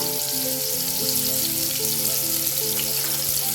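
Dried red chillies fry in hot oil in a pan for masala semiya, giving a steady, close sizzle with faint stirring scrapes and no voices.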